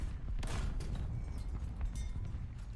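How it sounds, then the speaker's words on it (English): An anti-aircraft gun firing shells in the War Thunder tank game, heard as a faint, muffled series of booming shots over a constant low rumble. "Keep shooting. Keep firing."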